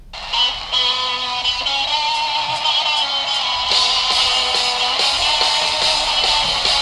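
Music plays through an Amazon Echo Dot smart speaker, a steady melodic passage of clear sustained notes with a thin, bright tone and no talking.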